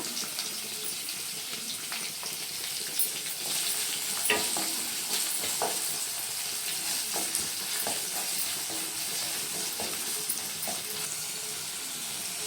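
Chopped onion sizzles and fries steadily in a hot pan while being cooked for a vegan soya curry, with occasional stirring scrapes and clinks over a continuous hiss, close and fairly loud, and no talking.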